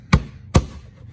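A 2014 Buick Enclave air filter cover snaps into place with two sharp plastic clicks about half a second apart, close and distinct against a quiet background.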